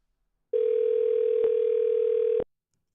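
During a call back, a single steady telephone tone sounds for about two seconds, clean and close, then cuts off into silence.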